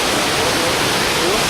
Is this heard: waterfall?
yes